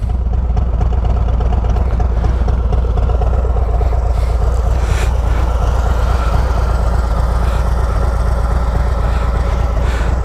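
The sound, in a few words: 2023 Harley Road Glide Special, Screaming Eagle Stage 2, idling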